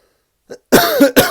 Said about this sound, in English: I got a bit of a cough going on as well.